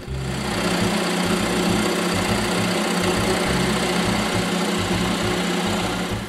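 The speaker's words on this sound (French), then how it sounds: "je peux percer un trou au centre" Drill boring a hole into the center of a wooden chair rung during chair restoration, a steady loud motor drone with a rhythmic pulsing low chatter throughout.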